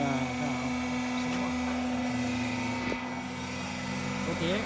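A hydraulic pump station runs on a QT40-3A mobile egg-layer concrete block machine, lifting the mold: a steady loud mechanical hum and drone continues throughout with faint clatter.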